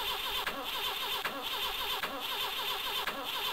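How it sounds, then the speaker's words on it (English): An in-game car engine cranks and runs under game music in an Amiga CD32 driving title from 1993, a steady mid-pitched motor drone with small bursts at regular intervals, loud and continuous, no talk. "Or a new start of the motor."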